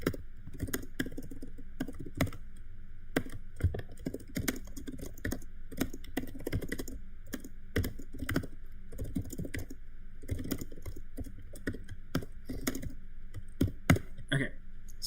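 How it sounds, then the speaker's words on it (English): Someone types code on a computer keyboard in a maths software workshop, with quick, irregular clicks and short bursts of keystrokes going on steadily for about fifteen seconds, close and fairly quiet, with no speech. "I'll really quickly type this up."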